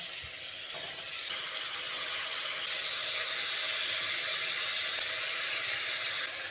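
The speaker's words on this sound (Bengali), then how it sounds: "ফুলকপিগুলো একটা একটা তুলে এই তেলের মধ্যে দিয়ে দিচ্ছি" Yogurt-coated cauliflower pieces for a winter vegetarian dish hiss and sizzle loudly as they go into hot oil in a kadai, a continuous frying crackle with no talk.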